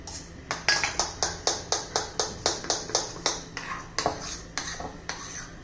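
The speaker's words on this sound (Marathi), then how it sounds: "व्यवस्थित मिक्स करून घेऊया" Dhokla batter for a tricolour dhokla being mixed in a bowl: a steady run of about fourteen sharp, close clinks as a spoon strikes the bowl in an even rhythm, with no talking.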